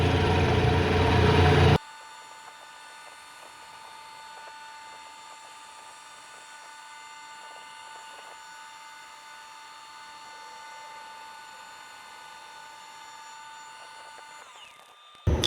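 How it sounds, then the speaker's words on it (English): A K&T Model 2D rotary head mill takes light cuts across the back side of a nut, opening with a loud burst before settling into a steady, high whining drone with tonal hum that holds for many seconds, fairly close. "the best way to hog off all this material is just straight milling this across"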